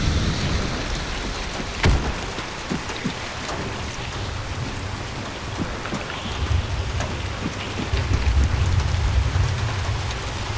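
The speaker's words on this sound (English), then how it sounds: "It's raining." Rain with thunder in a video game match: a steady hiss of falling rain throughout, a sharp thunder crack near the start, and low rumbles rolling in later.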